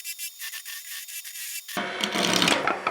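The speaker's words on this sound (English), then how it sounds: "I got the great idea to switch over to my roughing gouge to try and baby around it" Roughing gouge cutting a wooden spatula blank on a wood lathe around a tough knot, thin rhythmic scraping first, then a louder, harsher rough cutting noise close by.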